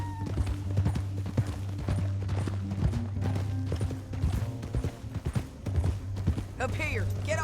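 Horse hooves clip-clop at a steady riding gait in a Red Dead Redemption 2 canyon ride, running under game music and spoken dialogue throughout, with a brief horse snort near the end.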